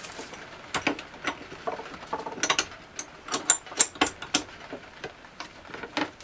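Spacers being pressed around a wooden spindle blank to wedge it into a lathe chuck in a woodworking shop, giving sharp irregular clicks, knocks and scrapes close by, with no talk.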